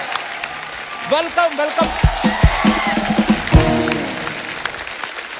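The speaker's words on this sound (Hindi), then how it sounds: "जोरदार तालियां एक बार तमन्ना के लिए।" A studio audience at The Kapil Sharma Show applauds for Tamannaah, a steady wash of clapping beneath a voice talking and laughing, with loud voiced bursts on top.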